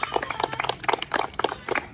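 Students in a school physical education class clap for a group, a quick run of individual claps in a loose, lively rhythm, moderately close and fairly soft, with no talk over it.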